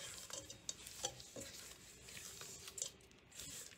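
Cookie dough is mixed in a bowl with irregular scraping and tapping strokes of a spoon over a soft steady hiss, faint and close, with no talk.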